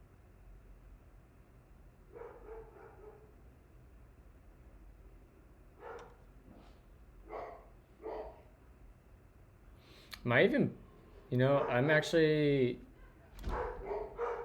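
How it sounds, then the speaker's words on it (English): Dogs barking in the background of a home office, with several short bursts that turn louder near the end, heard under a man's speech. "sorry about the dogs barking"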